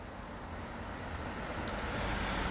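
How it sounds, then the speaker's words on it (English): Car traffic passes on a road nearby, a broad, steady roadway rumble that swells slightly toward the end. "the noise you hear behind me is just cars"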